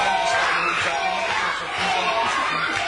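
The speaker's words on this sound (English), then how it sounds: "You can hear the crowd firmly chanting for Sara." A wrestling crowd at a W3L show roars and chants for the female wrestler Sara in a dense, continuous wash of voices, loud and rhythmic with pulsing swells.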